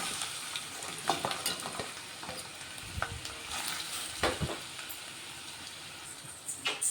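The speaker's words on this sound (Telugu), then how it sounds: "ఇదిగోండి, కాకరకాయలు అయితే అన్నీ వేసుకొని కలిపేసుకుంటున్నాయి. ఇవి కొంచెం మంచిగా ఫ్రై అవ్వాలి." Bitter gourd frying in hot oil sizzles steadily while a utensil stirs it, with several sharp scrapes and clatters against the pan at irregular moments.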